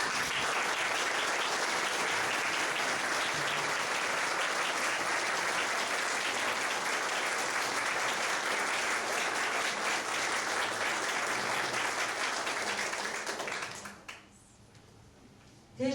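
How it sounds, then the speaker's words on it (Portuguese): A standing audience gives a dense, sustained round of applause for administration graduates at a fortieth-anniversary graduation ceremony, loud and steady for about fourteen seconds before fading quickly to near quiet. "de pé, saudarmos os administradores com uma salva de palmas"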